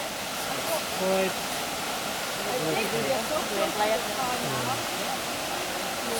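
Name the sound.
waterfall at Finch Hatton Gorge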